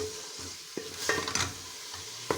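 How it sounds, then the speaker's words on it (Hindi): Raw chicken with tomatoes, capsicum, carrots and potatoes sizzles steadily in a pan while a utensil stirs and scrapes against the metal in several close, sharp knocks. "जो चिकन का है ना वो भी कच्चा है, तो उसको थोड़ा सा हम फ्राई करेंगे"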